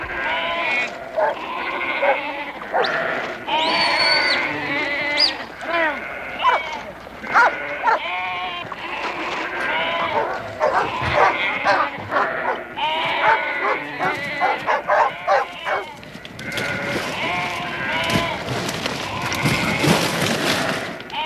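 Many sheep bleat over and over in a tight pen, a loud overlapping chorus of baas with some thumps and shuffling from the crowded flock.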